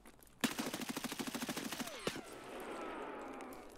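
A rapid burst of automatic gunfire from an AI Scav in Escape from Tarkov at the Customs bus depot, about fifteen close, loud shots in quick rhythm, ending with one sharp report and a fading echoing tail.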